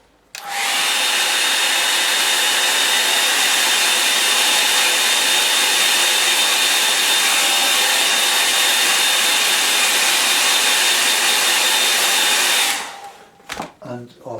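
A hair dryer blows steadily on a watercolour painting of sand dunes, a loud, continuous whooshing drone that runs for about twelve seconds, then cuts off abruptly, leaving a few faint handling sounds.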